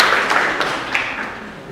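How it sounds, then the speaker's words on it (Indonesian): A classroom applauding students after a chemistry presentation, a short burst of many hands clapping that fades out over under two seconds. "Sekali lagi buat tepuk tangan untuk kalian."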